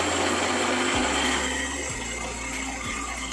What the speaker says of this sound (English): Now start blending that and it comes to a smooth paste.